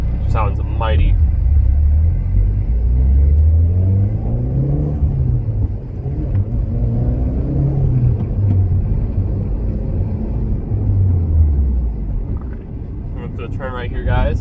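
A Mitsubishi Lancer Evo X with a manual gearbox drives along, its engine a loud, steady rumble that rises and falls through several gear pulls close to the cabin.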